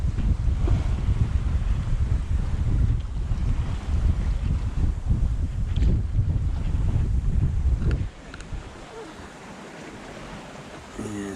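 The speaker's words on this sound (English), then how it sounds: "But we got waves as well, which are slowing us down," Under a strong wind buffeting the microphone, waves slap and wash against the bow of a sailing boat at sea, a loud, rough rushing that drops abruptly to a quieter hiss near the end.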